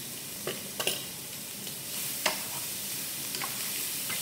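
Bacon or pancetta frying in a pan for penne carbonara gives a steady soft sizzle, with a few sharp clicks and scrapes of stirring scattered through, close by and fairly quiet, no talking.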